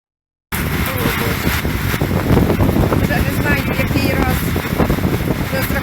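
Loud, steady wind roaring and buffeting the microphone, a dense rushing noise that barely lets up.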